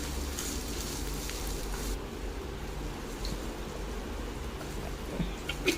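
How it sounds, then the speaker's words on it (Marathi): Cumin and mustard seeds crackle in hot oil for a Marathwada-style black-eyed pea curry, a steady close hiss of sizzling with no talk. "जिरे मोहरी तडतडली की अद्रक लसूणचा पेस्ट टाकून त्यालाही चांगलं शिजवून घ्यायचं आहे"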